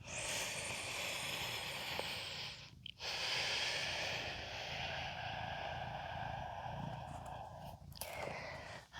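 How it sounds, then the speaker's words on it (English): Heavy, steady breathing during a full-body yoga flow, with long sustained inhales and exhales close up, broken by a brief pause and a sharper breath near the end, no talking. "Breathing."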